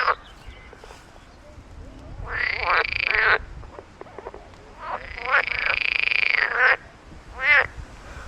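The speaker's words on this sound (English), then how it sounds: "Oh, can hear some frogs." Frogs near a Viking ring fortress at Trelleborg in Sweden croak loudly in long rasping bursts, three or four drawn-out calls with gaps between them, close by and noisy outdoors.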